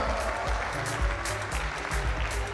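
Crowd at a live stand-up comedy show in Ibadan claps steadily through the stretch over booming low music and loud, dense noise.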